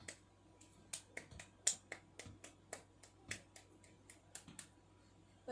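Sharp hand claps used as a self-stimulating behavior, a quick irregular series of soft, close, crisp slaps over a quiet room hum, with no talking.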